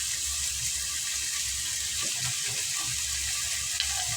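Vegetables and green chillies sautéing in a frying pan for a Tamil salted-meat thokku, a steady close sizzle with soft stirring scrapes throughout and no talk.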